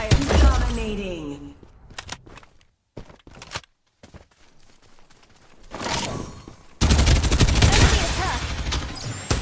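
Gunfire in the battle royale video game Farlight 84, with bursts of rapid shots and sharp impacts starting and stopping, then a dense loud stretch of firing near the end, mixed with game voice lines.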